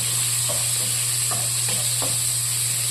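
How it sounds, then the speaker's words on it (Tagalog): Eggs with tomato and onion leaves fry in a pan for breakfast, giving a steady close sizzle broken by a few soft scrapes of stirring. "Nagmuluto muna ako ng agahan, itlog."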